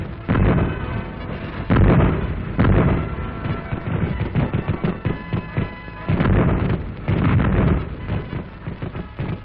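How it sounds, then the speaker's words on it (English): A 4-inch naval gun aboard ship is fired repeatedly at a target, its loud booming reports coming in a rapid irregular series, each blast heavy and close with rumbling decay in between. "As the target comes within range, the crew of a 4-inch gun engages within seconds."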